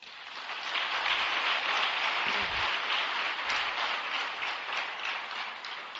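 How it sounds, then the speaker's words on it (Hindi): An audience at a motivational network-marketing talk claps continuously in a dense, even wash of applause that swells briefly and then holds at a fairly quiet, distant level. "एक इसके लिए जोरदार तालियां।"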